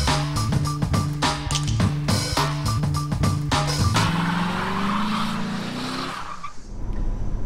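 A 2015 Ford Escape pulling away, its engine rising steadily in pitch and loudness after a few seconds of rhythmic, beat-like sound, then fading into road noise.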